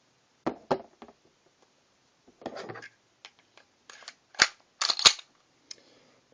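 Glock 36 .45 caliber pistol firing, several sharp separate shots spaced irregularly with silence between them, some in quick pairs.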